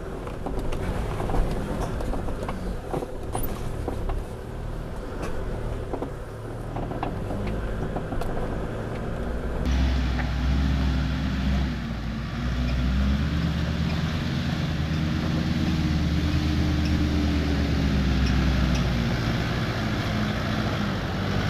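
Car engine climbing a hill track in Bunyip State Park, a steady loud drone that rises and strains partway through, running continuously up close with no talk.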